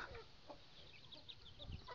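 Chickens clucking in short scattered calls against a steady background hum, no one talking.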